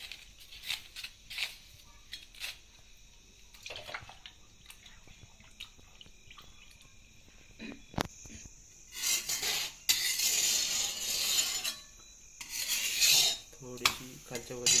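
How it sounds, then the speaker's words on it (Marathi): A wet hand rubs water over a bhakri on a hot griddle above a wood-fire chulha, giving soft rasping strokes. Louder bursts of hissing steam and scraping come close up, with no talk. "हिला शेकण्यासाठी वरून पाणी लावते वरच्या बाजून"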